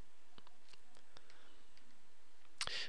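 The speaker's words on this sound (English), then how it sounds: "I'm just going to double click that to run it" Several sharp, faint clicks from a computer mouse, including a quick double click, spaced irregularly over quiet room tone, with a slightly louder burst of noise right at the end.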